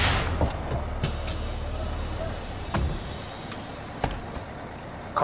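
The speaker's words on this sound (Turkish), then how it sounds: "Otobüs gidiyor Esat, otobüs gidiyor" A bus pulls away with a steady low engine rumble and road noise, marked by several sharp clicks and knocks, continuous and fairly loud throughout.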